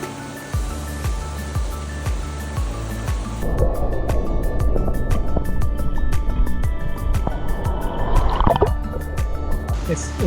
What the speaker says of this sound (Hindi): Let me just get a little swim here.